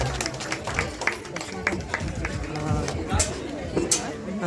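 Applause and chatter from an audience at a Kannada Rajyotsava celebration on stage, steady crowd clapping mixed with voices and speech throughout, moderately loud.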